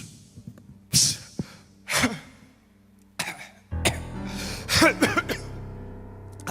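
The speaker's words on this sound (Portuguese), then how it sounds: "A tosse é verdadeira." Several separate coughs and throaty breaths come in short bursts, close and fairly loud, with quiet gaps between them and no talk.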